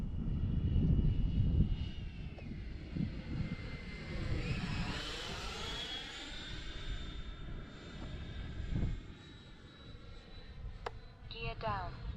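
A Freewing L-39 RC jet in Russian camo on its maiden flight, a steady electric ducted-fan whine sweeping in pitch as it passes near and away, loud and continuous over wind and a voice speaking nearby.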